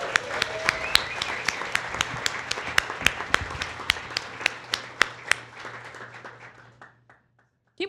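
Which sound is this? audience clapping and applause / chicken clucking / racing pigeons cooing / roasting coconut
audience clapping and applause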